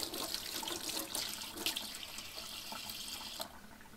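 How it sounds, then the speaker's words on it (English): Water runs steadily from a tap in a kitchen in a horror video game, a continuous hiss that stops abruptly near the end. "Water."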